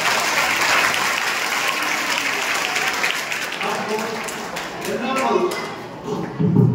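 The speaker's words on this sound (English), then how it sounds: "So please give them a big round of applause." Audience applause for singers at a musical antakshari event, steady dense clapping throughout with voices and scattered thumps mixed in, swelling slightly near the end.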